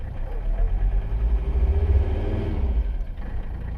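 The engine of an abandoned Mercedes 300CD with a broken belt is revved and gives a close, loud low rumble that swells and pulses, then eases off near the end.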